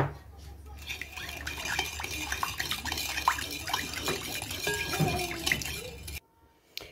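Sugar being mixed into beignet dough in a bowl, soft close scraping and faint clinks over a low background hum, ending in sudden quiet.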